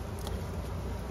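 Dense, steady buzzing of honeybees around open beehives, loud and close throughout with no talk.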